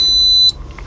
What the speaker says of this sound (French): il y a un bip, il s'est mis en route.